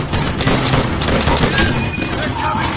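Gunfire in the World War II shooter Call of Duty: World at War, a dense, loud stretch of battle noise with bursts of shots and booms running throughout, partly masked by game sound and voices.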